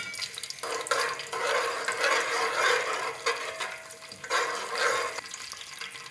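Spices fry in hot oil over medium heat, a continuous bright sizzle broken by bursts of stirring and scraping, fairly close and loud throughout.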